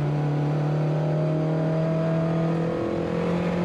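Race car on a soaking wet circuit, a steady engine drone with clear sustained tonal hum and broadband road and spray noise, unbroken and fairly loud, no voices.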